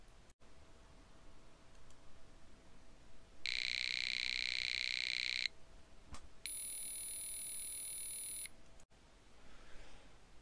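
Two electronic beeps generated by an Arduino tone() function: a loud steady low tone lasting about two seconds, then after a brief pause a slightly shriller high tone of similar length, over a faint background hum.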